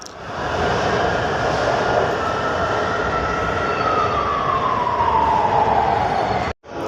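A Lahore Orange Line metro train runs with a steady, loud rumble and whine, a rising-falling electric tone sweeping through before the sound cuts off abruptly near the end.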